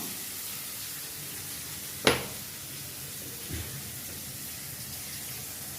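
Tomatoes sautéing in a pan for a Tirunelveli-style broken-egg curry: a faint, steady sizzling hiss throughout, with one sharp clink near the middle and a softer knock later.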